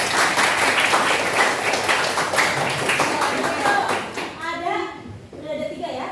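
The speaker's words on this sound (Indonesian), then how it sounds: "Oke, tepuk tangan" Schoolchildren in a classroom clap together during a maths lesson in a burst of loud, close clapping. It fades out after about four seconds and is followed by chatter and young voices.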